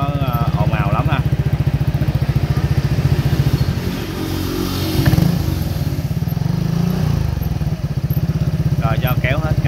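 A Honda SH 2020 scooter fitted with an aftermarket 4Road exhaust runs close by, putting out a loud, steady throbbing beat with a throttle surge midway, while voices speak briefly at the start and end.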